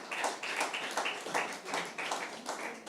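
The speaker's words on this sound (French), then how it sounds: "On peut les applaudir, on n'a pas de souci." Audience applause at a banking-program event, rhythmic bursts of clapping repeating steadily throughout, fairly even in loudness and moderately close.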